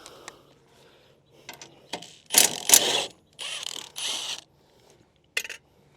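Ratchet wrench loosening and removing a bolt on a John Deere draper header, several short bursts of rapid clicking separated by pauses, fairly close and moderately loud with no talking.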